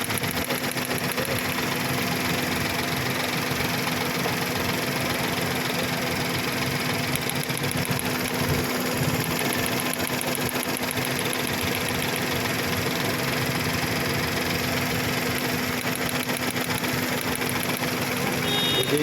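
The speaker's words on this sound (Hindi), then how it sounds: "अब हमारा बिल्कुल काम कर रहा है और सॉकेट निकालने के बाद हल्का मिसिंग हो जाता है" A Hyundai Eon engine idles with a slight misfire on cylinder 2 after its connector is unplugged, giving a steady, close, continuous hum with a faint uneven knock throughout.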